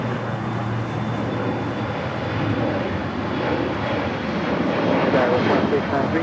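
A jet airliner rolls for takeoff on runway 25 right at Los Angeles International Airport, giving a loud, continuous broadband engine roar heard from a distance, with a radio voice speaking over it.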